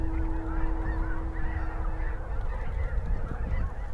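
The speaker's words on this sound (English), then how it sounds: "back into another gaggle of geese" A gaggle of geese honks in flight, many calls overlapping in a steady, loud chorus from start to finish, nearby and without any talk.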